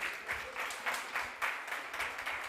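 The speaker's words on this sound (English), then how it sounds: "please give me a round of applause" A small audience applauds an advocate being introduced at a digital empowerment outreach event, steady light clapping with uneven swells, moderately quiet and heard alone.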